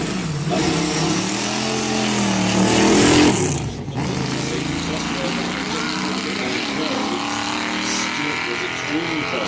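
Race car engine of a 1957-era Camaro on a circuit, a loud continuous roar that swells as it passes close by, then settles into a steady drone, with a commentator talking over it.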